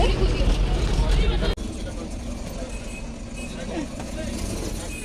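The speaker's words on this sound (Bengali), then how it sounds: "দেখো বাস চলে এসেছে" A bus pulls up on a busy street, its low engine rumble strong at first, then a brief break and a steadier idling drone with traffic noise and people talking over it.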